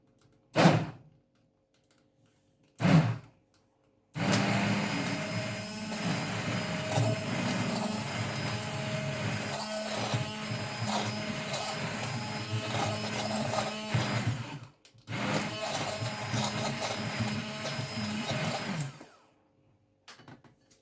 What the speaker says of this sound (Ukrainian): зараз ми приготуємо міксер і будемо збивати